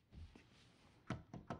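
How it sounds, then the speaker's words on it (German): Knocking on a men's restroom door in the video game Alan Wake: three distinct knocks near the end, fairly close and evenly spaced, following a quieter stretch with a faint earlier tap. "Da klopfen wir mal, ne?"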